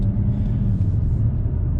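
A BMW 335d xDrive M Sport rides over road bumps, heard from inside as a steady low rumble of road and engine noise with soft thumps, and no talking.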